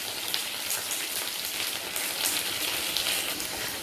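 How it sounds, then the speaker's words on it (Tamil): Continuous crackling sizzle of okra frying in hot oil in a pan for bhindi masala, dense and steady throughout with no voices. "வெண்டைக்காய் பொரியிற சத்தம்"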